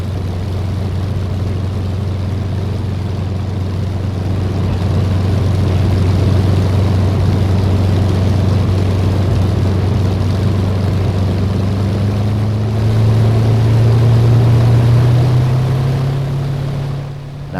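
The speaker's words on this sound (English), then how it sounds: "both aeroplanes had the same Rolls-Royce Merlin engine" A WWII British fighter plane with a Rolls-Royce Merlin engine drones steadily and loudly, its pitch shifting slightly upward near the end before the sound fades a little.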